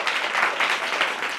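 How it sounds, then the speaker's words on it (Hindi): A small group of schoolchildren claps for classmates in a government school classroom, giving brief, fairly steady applause with no talking over it. "तालियां बजाइए इनके लिए"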